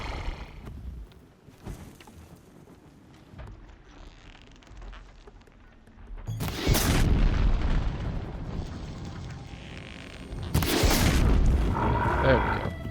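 A blaze canister bursts into a deep, roaring fiery explosion in the game Horizon Zero Dawn, the heavy boom hitting loud and sudden and then a second blast following a few seconds later, with quieter game ambience and creature sounds before.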